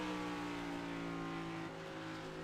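A race car downshifts in the iRacing sim at Phoenix Raceway, its steady, close engine drone holding layered harmonic tones with a slight shift in pitch partway through, and no voices.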